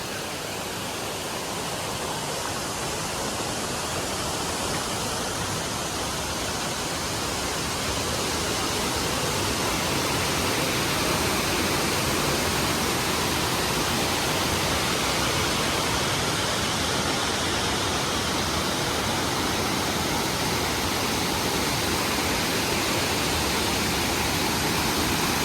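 Waterfall at a viewpoint in Lambasingi pouring steadily, a dense continuous broadband rush that stays loud and unchanging throughout with no voices.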